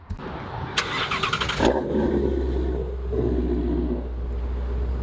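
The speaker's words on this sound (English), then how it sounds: "you guys know he's driving away" A Ford Shelby GT350 fires up with a sharp blip of revs, then settles into a deep, rumbling engine note as it pulls away, loud and close.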